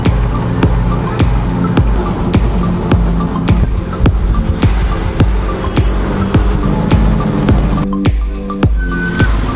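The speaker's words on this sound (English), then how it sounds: "Alright, into a tuk-tuk," A tuk-tuk ride through the streets of Galle, Sri Lanka, a continuous close engine drone with road rumble and clicks and rattles throughout, a brief quieter dip near the end.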